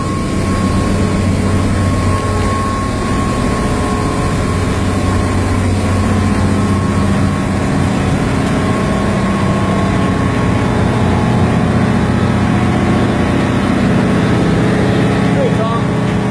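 Heavy ship engines drone steadily in the engine space of the vessel YWAM Liberty at Cairns, Australia, a loud, constant low rumble with a faint steady whine above it, filling the space throughout.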